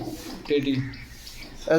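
A pigeon coos in short low phrases at a pigeon seller's lofts in Bogura, Bangladesh, close by and moderately loud, with a voice talking around the calls.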